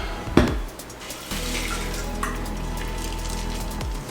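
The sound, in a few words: pouring a cocktail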